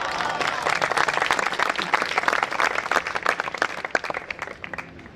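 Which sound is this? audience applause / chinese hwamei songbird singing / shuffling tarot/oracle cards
audience applause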